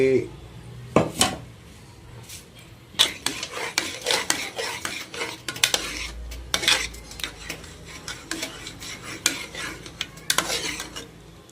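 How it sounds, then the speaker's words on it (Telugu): Lentil and cabbage curry being stirred in a pot, with a spoon scraping and clanking against the metal in quick, uneven strokes, close and fairly loud throughout. "కొంచెం మెత్తగా ఉండేలా కలుపుకోండి"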